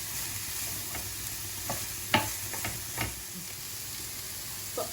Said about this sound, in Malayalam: ഒരു 2 മിനിറ്റ് ഇതിനിങ്ങനെ നമുക്കൊന്ന് വഴറ്റി കൊടുക്കാം